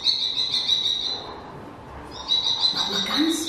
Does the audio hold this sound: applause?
no